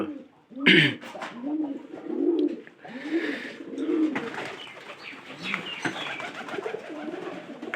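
Pigeons in a loft coo in repeated soft, throaty rolls close by, interleaved with speech and a sharp flutter or knock near the start.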